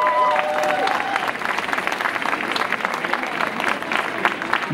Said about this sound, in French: Applaudissons-nous encore une fois.